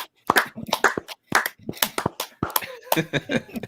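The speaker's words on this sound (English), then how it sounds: "I'll give the slow clap." Slow hand claps, a series of sharp, close, unevenly spaced smacks separated by short pauses, with a few softer taps between them.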